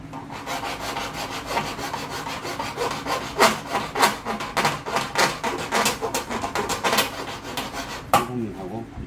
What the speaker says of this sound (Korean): 요 부분을 좀 갈면 되겠네요.